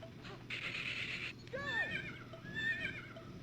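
Horse neighing in the video game Rayman 2: The Great Escape, a clear whinny with a rising then falling pitch and a second shorter neigh, heard alone over low game ambience.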